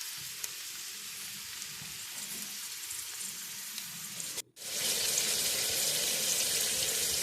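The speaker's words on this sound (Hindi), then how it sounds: "इसमें हम प्याज डाल लेंगे।" Onions go into a pan for kaleji masala, a Pakistani liver curry, with a steady broadband sizzle and frying hiss running throughout, briefly cut by a short gap before resuming louder and fuller, with no talking.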